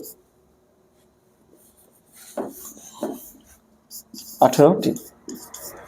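Writing out a list of the eighteen Puranas for students during a history lesson: light, scratchy strokes on a surface, mostly faint, with someone talking over much of it.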